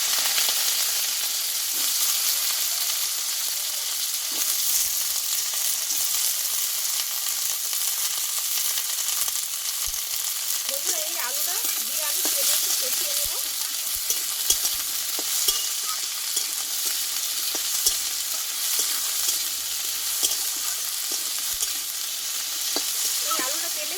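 Cut potatoes with panch phoron sizzle in mustard oil in a pan, a steady hiss of frying with occasional stirring scrapes and small pops, close and even throughout with no talking.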